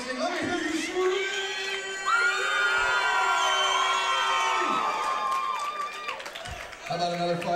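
A crowd at an MMA fight event in Lansing screams and cheers loudly and continuously, with high shrieks and whoops layered over a dense roar of voices.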